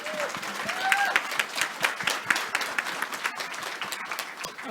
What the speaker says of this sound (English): So how about one last round of applause for the panels we've had so far today?